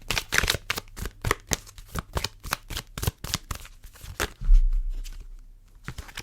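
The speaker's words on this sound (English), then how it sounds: "Let's pull some more oracle cards." Oracle cards being shuffled by hand, a rapid series of crisp riffling bursts in a steady rhythm, close and fairly loud, ending in a softer rustle, with no talking.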